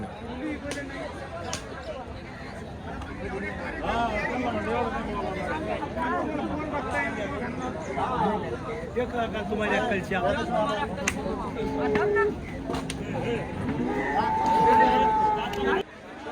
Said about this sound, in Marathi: किती गर्दी मार्केटमध्ये आज